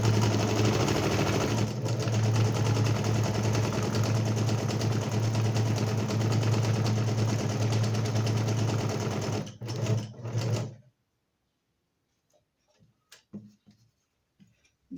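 A sewing machine runs continuously on fabric for nearly ten seconds, a close, dense mechanical whir, then stutters in a few short bursts and stops, followed by faint scattered clicks and handling noises.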